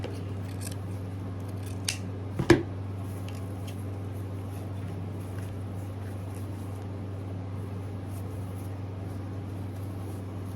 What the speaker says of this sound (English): Now we're gonna measure the 8 inches. And we're gonna cut.